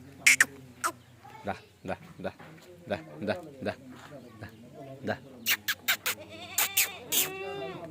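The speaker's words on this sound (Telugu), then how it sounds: "ఇక ఈ పొట్టేలు అసలు మామూలు ఉండదు" Bleats and short calls from a ram and nearby sheep or goats on a farm, several separate cries at uneven intervals, close and loud, mixed with a voice talking between them.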